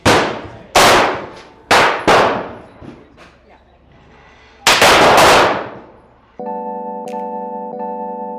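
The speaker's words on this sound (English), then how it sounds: "Dry fire, we got all the way through all 17 shots" Sharp air pistol reports from a Huben .25 caliber pistol, four quick shots in succession followed later by a fifth loud one, each with a decaying ring, then a steady electronic tone from a chronograph takes over.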